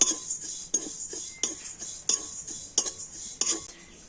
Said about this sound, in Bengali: এই তিলটাকে একটু ভেজে নেব, তবে খুব বেশি ভাজবো না